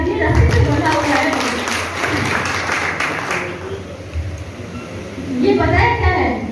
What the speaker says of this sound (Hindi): चलिए भाई साहब के लिए जोरदार ताली बजा दीजिए